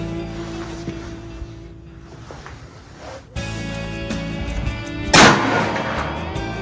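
A Bergara B-14 Timber rifle firing a 180 grain soft point bullet cracks once loudly outdoors near the end, preceded by quieter handling clunks and ambient noise.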